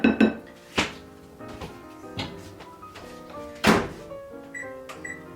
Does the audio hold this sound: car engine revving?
no